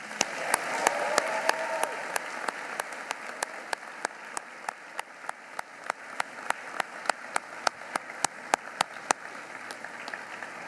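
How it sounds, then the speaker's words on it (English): An audience applauds at a medical school ceremony, a broad hall-filling clapping that fades to sparse claps, with a steady run of sharp distinct claps continuing to the end. "Let's give them all a round of applause."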